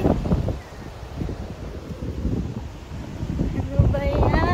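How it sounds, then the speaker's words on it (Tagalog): Strong wind buffets the microphone in rough gusts, with rustling and faint background talk now and then. "naloloko yung hangin"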